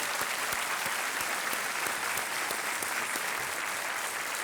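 A studio audience at the Hindi game show Kaun Banega Crorepati season 6 claps in a dense, steady burst of applause that fills the whole stretch at an even, loud level.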